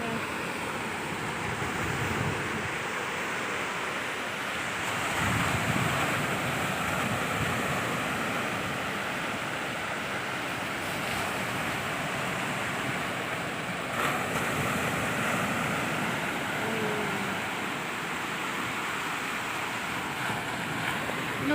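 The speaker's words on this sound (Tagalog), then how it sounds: "Dito pa ngayon guys sa dagat." Steady sea surf washes ashore at Tai Long Wan beach at low tide, a continuous broadband roar of waves with light wind noise, no voices.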